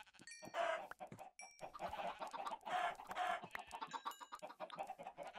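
Minecraft chickens cluck in short repeated bursts, close and fairly quiet, with a few brief gaps of silence between groups of clucks.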